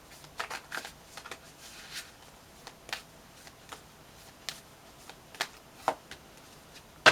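Tarot cards being shuffled close up in quiet, irregular bursts of soft riffling and flicking, with short pauses between and no voices.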